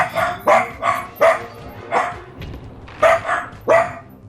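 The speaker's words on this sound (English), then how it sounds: "Really over this barking, really." Dogs barking in the Jade Cocoon 2 Complete Edition video game, a run of about eight loud, close, evenly spaced barks in quick rhythm with a short pause midway.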